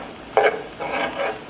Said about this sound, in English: Now it's coming to a nice sizzle.